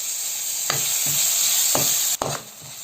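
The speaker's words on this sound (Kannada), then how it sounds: "ಈಗ ಟೊಮಾಟೊ ಚೆಂದ ಫ್ರೈ ಆಗ್ತಾ ಬಂದಿದೆ" Tomato and green chillies frying in a pan, a steady bright sizzle with a few spoon-stirring knocks and scrapes throughout, close up and without talk.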